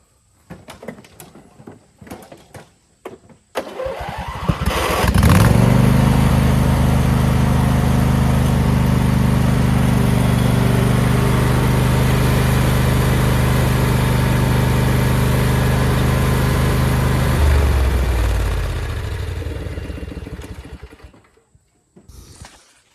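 A Craftsman riding lawn mower engine starts after some clanks and fumbling, then runs at a loud, steady drone as it drives up onto ramps, drops in pitch near the end and shuts down.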